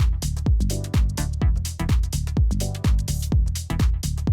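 A minimal house track drop with a punchy four-on-the-floor kick and crisp percussive hits over a sparse, bass-heavy groove, loud and steady, with no voices.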